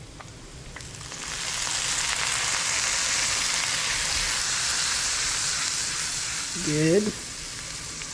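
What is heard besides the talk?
minced garlic sizzling in a pan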